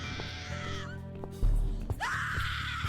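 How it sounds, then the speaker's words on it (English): A woman screaming in fear in the horror video game The Cat Lady, two loud shrill cries separated by a heavy low thud, close and intense over a droning background. "Scream louder, little bitch. Scream your lungs out."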